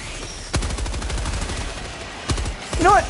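Rapid automatic gunfire in Helldivers 2, bursts of fast repeating shots with brief pauses between them and a short electronic warble near the end, with no talking.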